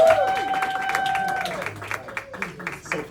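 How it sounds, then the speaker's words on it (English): Audience applause at an evening business presentation, steady clapping running throughout at moderate volume, with faint voices and a few whistle-like tones over it in the first half. "Let's give them a huge round of applause."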